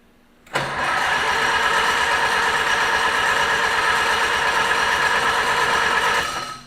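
A tractor engine catches and starts after repeated attempts, jumping to a steady, loud idle with a rough mechanical clatter that holds for several seconds before easing off slightly.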